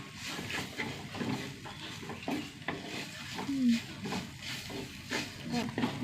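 Garam masala and black pepper powders roasting in a hot pan, a soft steady sizzle with light stirring scrapes, faint and close, under occasional talk.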